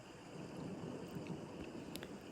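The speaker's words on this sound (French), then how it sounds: "vous entendez ma voix et le son de l'orage" Steady soft hiss of rain during a thunderstorm, a continuous low rumbling wash with faint distant crackles, heard alone at low volume.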